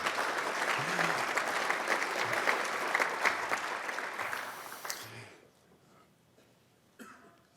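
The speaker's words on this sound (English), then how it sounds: "you can always clap for the guy who's delivering the prayer" Audience applause for a priest who has just delivered a prayer at a St. Thomas Day dinner, loud and sustained for about five seconds before breaking off, with a few coughs and throat clears in the quieter moments after.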